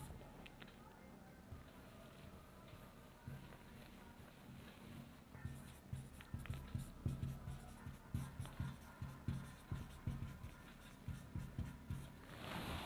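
Handwriting during a Hindi grammar lesson on the alphabet: a steady run of soft scratchy strokes that starts quietly and turns louder and more rhythmic in the second half, close up, with no speech.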